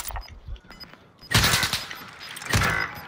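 Automatic weapon fire in Modern Warfare on Rebirth Island: a few light shots, then two loud, sharp bursts of rapid gunfire about a second apart, close and dominant, with no talk over them.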